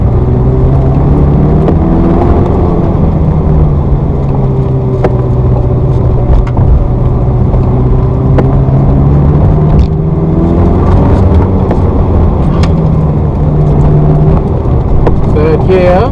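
A Ferrari 360 F1 engine pulls loud and steady in second gear, its revs rising and falling gently with a continuous rumbling drone and faint voices beneath.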